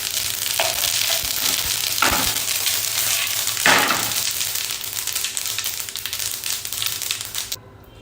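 Mustard and sesame seeds crackle and sizzle in hot oil in a pan. A dense, steady frying hiss runs the whole time, with a few sharper pops, and it cuts off abruptly near the end.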